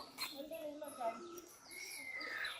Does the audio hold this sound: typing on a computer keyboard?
no